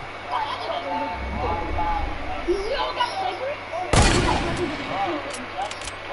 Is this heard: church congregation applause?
no